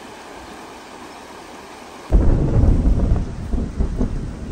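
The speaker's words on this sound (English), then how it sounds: "The rain is on its way." Deep thunder rumbles in loudly and abruptly over steady rain hiss on a remote Solomon Islands trail, the roll swelling and rolling on with later surges as the approaching storm builds.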